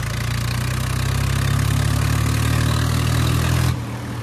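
A Swaraj 855 tractor engine runs loud and close with a steady low chugging drone at a Nagar Kirtan procession, then drops abruptly to a quieter idle near the end.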